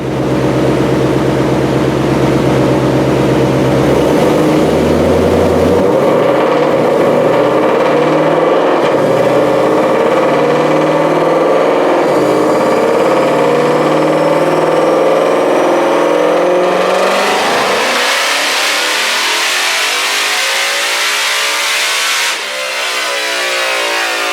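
A 2020 Ford Mustang GT500 with a swapped supercharger pulley, running on E85 during a dyno pull, roars loudly as the engine climbs steadily through the revs, then cuts off abruptly near the end, with no talking.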